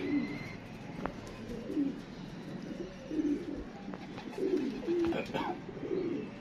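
Pigeons coo over and over in soft, low, throaty calls, several overlapping at a moderate distance against a steady outdoor background hum.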